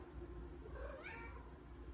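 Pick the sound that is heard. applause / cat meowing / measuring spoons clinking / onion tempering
cat meowing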